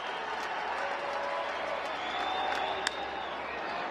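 A large baseball stadium crowd of over 32,000 stands and applauds in a steady, distant wash of clapping and cheering that lasts throughout, with one sharp crack near the end.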